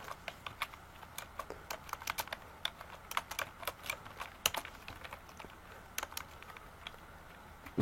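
Code being typed on a computer keyboard, a quiet, irregular patter of close key clicks with occasional louder strikes and brief pauses, with no voice over it.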